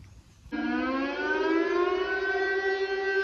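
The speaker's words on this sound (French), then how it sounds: "Vous entendez cette sirène? Elle est hurlante." A civil defense siren starts abruptly and wails in a long, steady rising tone, loud and sustained with no voices.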